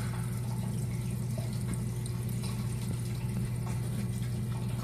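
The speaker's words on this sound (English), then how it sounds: "I have the water flow turned on, not full stream" Water from a ball valve opened only halfway, flowing into an algae scrubber reactor, giving a steady, continuous trickling rush with a low hum underneath, unbroken for the whole stretch.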